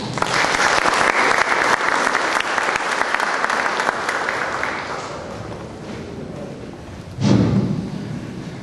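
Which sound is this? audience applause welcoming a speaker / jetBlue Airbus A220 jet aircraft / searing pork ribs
audience applause welcoming a speaker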